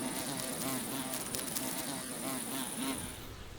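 Wild wool carder bees (Anthidium) buzz steadily and close by, a continuous droning hum whose pitch wavers and swells as they fly around their flower patch, with no other sounds.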